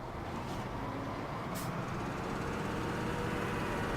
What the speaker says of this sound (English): let's hop into this bad boy right here and start up the engine